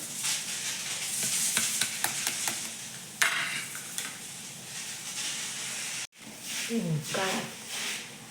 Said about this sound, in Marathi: गुळाचं पाक गुळाचं पाणी उकळत आहे